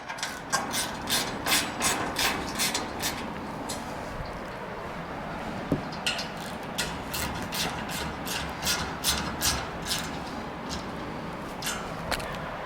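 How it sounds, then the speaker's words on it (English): Repeated ratcheting clicks from a 5mm Allen wrench tightening two bolts on an upTOP Overland roof rack on a Lexus GX 470, steady close bursts of metallic ticking with a brief sharp knock midway. "Then with a 5mm Allen wrench, I'll just tighten up those two bolts."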